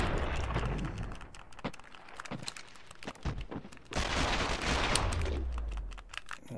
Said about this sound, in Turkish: Silah alayım da biraz sıkayım.